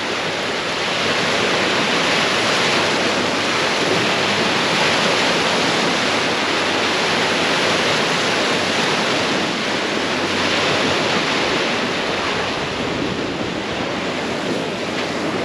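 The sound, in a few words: ocean waves rolling onto shore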